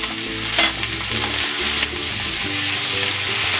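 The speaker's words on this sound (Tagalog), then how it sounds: "Ilalagay ko na dito itong sliced mushroom." Sliced mushrooms seasoned with salt and pepper sizzle loudly in a hot pan, with steady frying crackle and occasional stirring scrapes close by.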